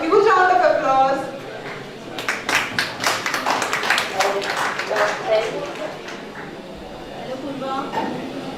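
Audience applause at a sports event, a burst of scattered clapping that swells and fades, mixed with some voices and crowd noise.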